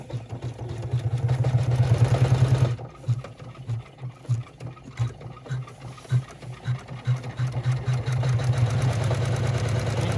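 An embroidery machine tacks down and stitches through thick fabric layers of a mini rucksack held in the hoop, a steady rapid mechanical whir with a pause of uneven clatter midway before the continuous stitching resumes.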